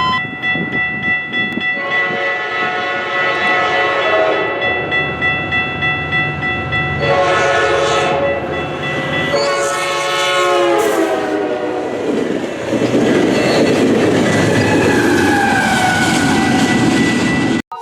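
A Metrolink F59PH diesel locomotive sounds its horn in loud, sustained multi-tone blasts with brief breaks between them, and the rumble of the passing train continues underneath.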